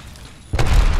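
A frag grenade goes off in Apex Legends, one sudden loud booming blast about halfway through, rumbling on after a quieter stretch of game background noise.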